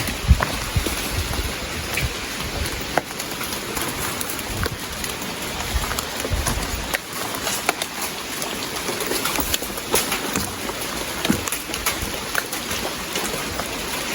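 Heavy rain pours steadily and loudly throughout, a dense continuous hiss with scattered sharper drops and splashes close by.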